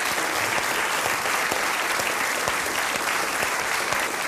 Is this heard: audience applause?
yes